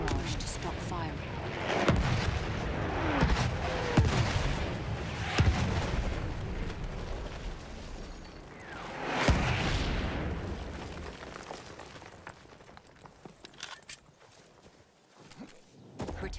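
Enemy artillery barrage in Battlefield 1 during an Operations battle, heavy booming shell impacts and explosions landing every few seconds, some close and loud, others distant rumbles, with gunfire crackling between blasts and game voice lines over the chaos.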